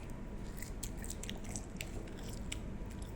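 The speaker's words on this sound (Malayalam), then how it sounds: "അപ്പം ഇതിൻ്റെ മിച്ചമുള്ള KFC കഴിക്കാം" Leftover KFC fried chicken being eaten: close, soft biting and chewing with small crunchy clicks, repeated steadily with no talking.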